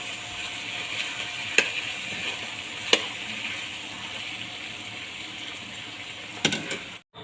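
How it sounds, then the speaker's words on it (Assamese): Broiler chicken meat fries in a pan, a steady bright sizzle with a few sharp pops and stirring clicks, ending abruptly. "এতিয়া ব্ৰইলাৰ মাংস ফ্ৰাই কৰি আছে।"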